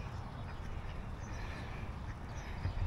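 Ducks quack at a park lake, at Woodlawn Lake Park, faint and somewhat distant within steady outdoor ambience.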